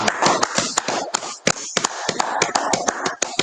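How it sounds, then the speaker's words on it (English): Close, sharp hand claps from a small group at a religious gathering, irregular and overlapping, with crisp individual slaps standing out in an uneven rhythm and no talk on top. "Clap it up."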